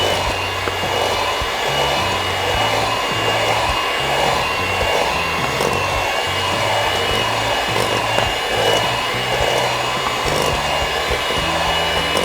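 Electric mixer at medium speed beating cookie dough for cheese emping cookies: a continuous close motor whine with a shifting, lumpy low churning rhythm as the beaters work through the mix, no talk.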